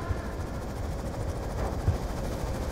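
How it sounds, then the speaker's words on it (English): A stealth chopper in Call of Duty: Black Ops 2, heard as a low steady rotor drone with muffled thumps, fairly faint and continuous, no talk. "Friendly stealth chopper inbound."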